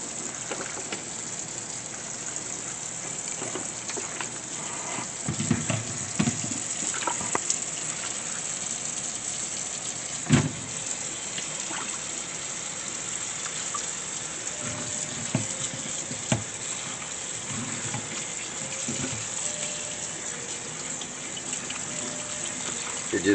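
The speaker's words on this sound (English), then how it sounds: "let's go rinse the cucumbers" Tap water runs steadily over brined cucumbers being rinsed for pickling, a continuous low splashing gush that stays fairly faint and even throughout, with a few louder splashes and knocks as the cucumbers are handled.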